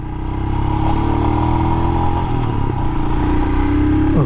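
A Royal Enfield Himalayan motorcycle on a test ride, its engine giving a loud, steady, close drone with a low rumbling tone and slight shifts in pitch throughout, with no talking.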